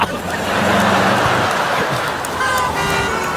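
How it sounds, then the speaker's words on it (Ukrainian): Car horns honking on a busy road, several short and sustained toots over steady traffic noise, with faint voices in the background. "Ти бач, як всі сигналять, а?"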